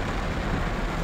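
Rain drums steadily on a car on an empty road, a dense, loud, continuous wash of noise with no talk.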